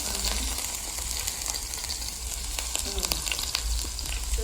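Blood cooking in a pan sizzles and crackles in a steady, continuous fry throughout, close and fairly loud, with no one talking.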